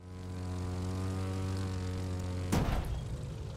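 Propeller airplane engine in The Crew 2, a steady droning hum with strong tonal harmonics that ends in a sudden burst of noise near the end.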